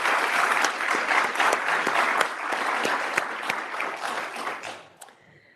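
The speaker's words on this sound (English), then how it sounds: "please give a warm round of applause to our honorees" Audience at an evening 30 Under 30 celebration in corporate offices applauds the honorees, a dense, even round of clapping that holds steady and then tapers off.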